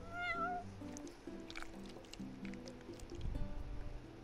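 A cat meows in the video game Final Fantasy XV, one clear rising-and-falling meow near the start over steady in-game background music and ambient sound.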